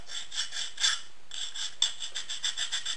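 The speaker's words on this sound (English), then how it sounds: "screw sander and just run it over a few times" A flat sander rubs back and forth over part of a scale model log car, making quick, close rasping strokes in a steady rhythm with a brief pause, and no one talks.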